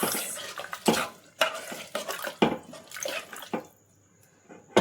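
Kathiyawadi vaghareli khichdi being stirred in a pot, with wet scraping and sloshing strokes in an uneven rhythm that ends in a quieter pause with a faint kitchen hum.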